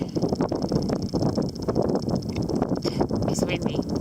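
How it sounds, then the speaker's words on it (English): Wind gusting over a frozen river in the Yukon wilderness, a steady rough roar of wind buffeting the microphone, with some faint crunching and rustling mixed in. "it's still windy for a river that's not supposed to be windy."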